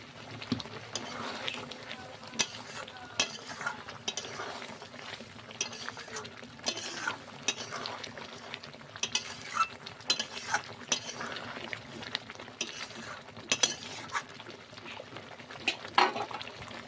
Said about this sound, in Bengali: মাংসটা ফুটছে